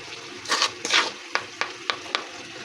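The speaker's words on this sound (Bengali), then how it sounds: "এখন আমরা মাছটা দিয়ে দেবো। আর একটু জল দেবো" Mola fish and a splash of water going into a hot cooking pan with tomato purée and spices, a couple of bursts of sizzling followed by several short, sharp clinks and stirring taps.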